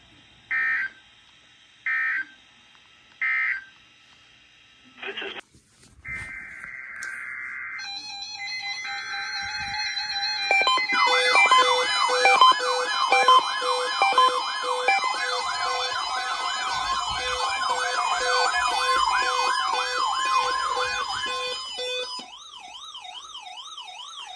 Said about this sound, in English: The National Weather Service has just activated the warning alarm as a test